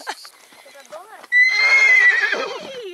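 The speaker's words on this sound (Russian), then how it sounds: "Там вот на горе еще лошади. И мой прям звездный конь орет." A horse on a hill in Alanya, Turkey, lets out a long, loud neigh that rises and trails off, close and dominant after a stretch of quieter voices and background sounds.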